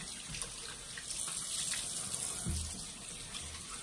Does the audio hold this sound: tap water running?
yes